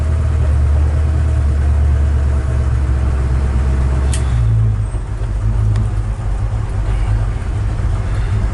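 The engine of a 1956 Chevrolet 210 runs steadily during a test drive, a deep continuous low rumble with a slight dip in pitch midway and no talking.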